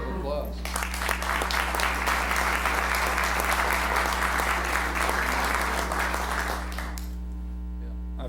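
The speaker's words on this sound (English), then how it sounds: "Let's give them a round of applause." Sustained audience applause fills a city commission meeting room for several seconds, steady and fairly close over a low electrical mains hum, then cuts off abruptly leaving only the hum.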